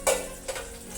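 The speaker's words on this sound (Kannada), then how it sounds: "ಒಗ್ಗರಣೆನ ಹಾಕ್ತೀನಿ" Hot tempering (oggarane) is tipped into boiling sambar, giving a sharp sizzle burst at the start, a smaller second crackle soon after, and a fading fry below.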